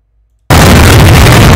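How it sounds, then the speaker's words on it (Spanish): After a brief near-silence, a sudden loud explosion bursts in and roars on at full volume until the end. "Una explosión totalmente fuera de contexto"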